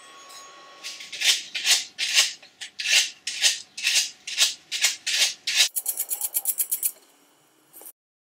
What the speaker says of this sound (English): Bit of hand sanding to finish